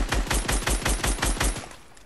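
Rapid bursts of SCAR assault rifle fire in a video game, about a dozen evenly spaced loud shots over under two seconds before fading, with no talking.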